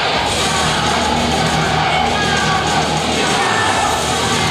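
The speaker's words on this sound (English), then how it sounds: "The crowd on their feet." A packed wrestling crowd at a New Age Wrestling main event roars for the champion, a dense, continuous wall of cheering, yelling and whooping that stays loud throughout.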